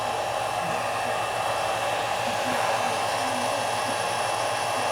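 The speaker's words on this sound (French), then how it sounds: "il y a même les deux ventilateurs qui sont mis en route" The two cooling fans of an ISDT D2 dual battery charger run together with a steady, even whirring hum, close and constant, with no voices.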